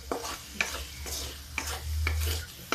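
Chopped desi tomatoes cook in a pan over high gas, giving a steady close sizzle broken by a few sharp scraping stirs of a spoon against the pan.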